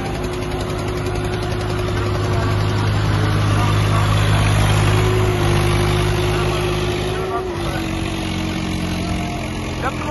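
A Swaraj 855 tractor engine runs with a steady loud diesel drone and hum, heard close under continuous background noise, with voices talking over it.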